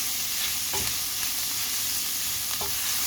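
Ground beef and onion stir-fried in a pan, spinach dish on the way: a steady broad sizzle with a couple of soft spatula scrapes, close and continuous, no voices.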